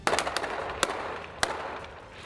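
Gunfire from police and army troops shooting at terrorist hideouts on a jungle island, with several sharp, separate cracks spaced about half a second apart over steady background noise.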